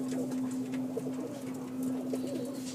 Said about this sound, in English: Birmingham roller pigeon.